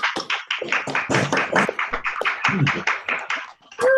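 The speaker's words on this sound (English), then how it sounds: "If we can all come off a mute and give her a round of applause." Applause from participants in an online meeting, a dense run of many overlapping claps and taps spread across about four seconds, close and fairly loud, ending with a brief tonal blip.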